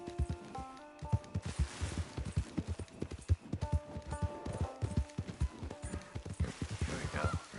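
Horse hooves gallop fast and steady in Red Dead Online, the default cheap horse running in an even clip-clop rhythm with game music and ambience layered underneath.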